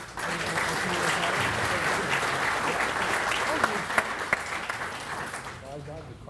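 Audience applause at a ceremony honoring United States Air Force members, steady dense clapping filling the room for several seconds and tapering at the end, with faint voices underneath.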